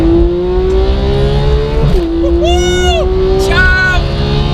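Porsche 991 GT3 with a Sharkwerks bypass exhaust, its loud, steady engine drone climbing gradually with a brief shift dip, joined by higher whining tones; close and continuous, with no one talking.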